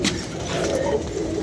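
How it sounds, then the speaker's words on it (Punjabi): Pigeons coo continuously at close range, a soft, steady rolling murmur of several birds filling the short stretch with no talk over it. "ਕਬੂਤਰ ਦੇਖ ਲਓ"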